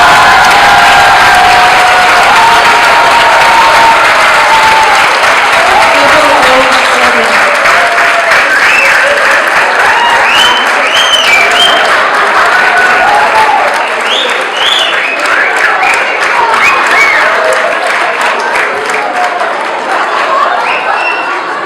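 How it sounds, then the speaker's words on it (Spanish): Sustained, loud applause fills a conference hall at an international family constellations congress, with scattered cheers and crowd voices rising through the dense clapping before it slowly eases. "Un aplauso para Karl Heinz."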